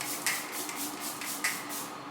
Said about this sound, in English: Let me put on some setting spray.